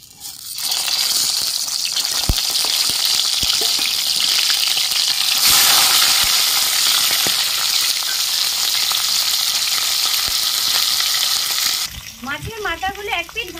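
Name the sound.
frying fish heads coated in salt and turmeric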